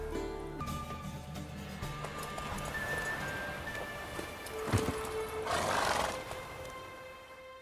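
Horses race at a gallop in the video game The Witcher 3, with steady hoofbeats and whinnies over a constant background that builds into louder pounding near the end.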